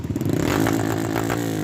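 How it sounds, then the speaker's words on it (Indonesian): Motorcycle exhaust revving hard and loud on a forest trail, a steady close engine roar with rising harmonics and some rattling clatter throughout, no voices. "Wow, suara knalpotnya nyaring, tapi tidak apa-apa karena di hutan"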